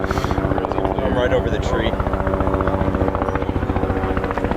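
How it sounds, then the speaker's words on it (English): A helicopter circles low over a neighborhood in southwest San Antonio, Texas, its steady rhythmic rotor thump and engine drone filling the scene under someone talking close by. "there's a helicopter looking for someone right now"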